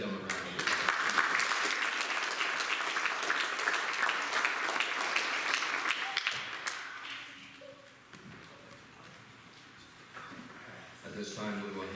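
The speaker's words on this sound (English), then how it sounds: "Let's give them a round of applause." A congregation at a church service bursts into a sustained round of applause, broad and full for about seven seconds before thinning into scattered claps, quieter room sounds and a brief renewed patter near the end.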